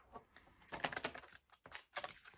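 A deck of Divine Feminine Oracle cards being shuffled, a quick series of soft papery riffles and flicks in uneven bursts, close and fairly quiet, with no talking.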